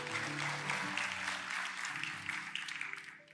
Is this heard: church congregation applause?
yes